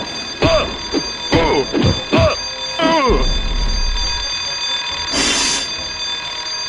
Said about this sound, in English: How about an alarm that blares absolutely fucking non-stop?